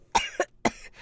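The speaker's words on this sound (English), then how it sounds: "And coughing." A person coughing hard after being given a ladle of water, three sharp close coughs in about a second followed by a fainter fourth.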